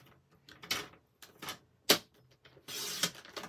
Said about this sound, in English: I'm going to cut just a teeny bit off the other side